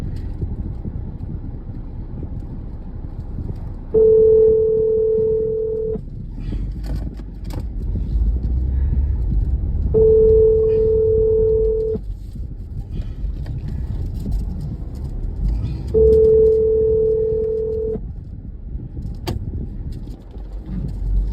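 A telephone line rings three times, with long, evenly spaced tones about every six seconds over a low rumbling background with no speech.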